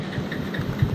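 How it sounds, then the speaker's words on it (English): A motorbike engine idles in heavy Mumbai rain with a low, steady throbbing pulse, close and moderately loud for about a second. "bike took a while to start"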